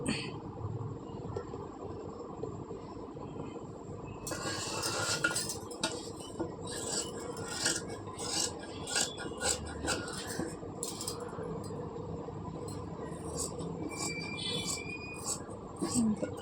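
Blouse fabric being cut by hand with scissors: a run of crisp snipping clicks and light metallic clinks, close and steady, over a low room hum with no talking.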